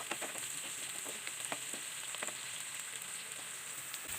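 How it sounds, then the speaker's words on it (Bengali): Onion and garlic lightly frying in oil in a village kitchen, a soft, steady sizzle with occasional small crackles and stirring clicks, no talking. "শুধু পেঁয়াজ আর রসুন ভেজে নেওয়া লাগবে"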